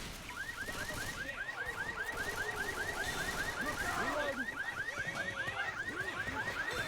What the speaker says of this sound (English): they triggered the alarm